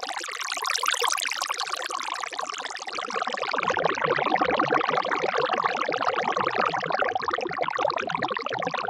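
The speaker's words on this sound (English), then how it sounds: "the wet is basically a delay and a reverb to give you more of that like underwater kind of feel." An Ableton water effect rack processed through delay and reverb produces a dense, continuous bubbling wash with a muffled, underwater character. It thickens and deepens after a few seconds and carries on steadily with no voices.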